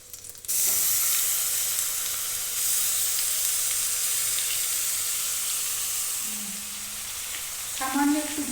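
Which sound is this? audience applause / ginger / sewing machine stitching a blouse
ginger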